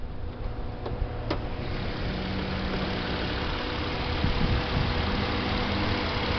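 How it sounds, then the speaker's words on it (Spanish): A well-kept used car's engine idles quietly and evenly under an open hood, a steady low hum with a couple of faint ticks near the start and no talking. "Observa lo bien cuidado de este motor. Escucha lo silencioso."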